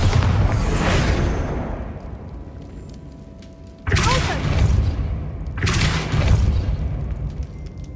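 Two heavy booming blasts from the Bombarda spell in Hogwarts Legacy, each a sudden loud explosion with a rumbling tail, arriving a couple of seconds apart after an earlier fading rumble.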